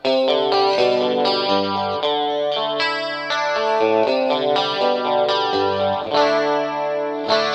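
Guitar played through a Rockman headphone amp with a clean chorus tone, plucked notes and chords ringing in a shimmering, steady phrase with no talking.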